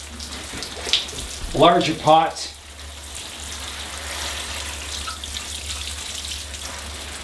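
Water sprays steadily from a garden watering nozzle on its coarse setting, giving a wide, even hiss near the bonsai pots, after someone speaks briefly.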